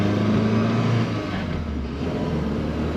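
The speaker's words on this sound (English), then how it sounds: "Here's the first ride in the manual Silvia." A Nissan Silvia S14, freshly swapped to a five-speed manual, drives on its first test run, its engine a steady loud drone with a slight rise in revs early on.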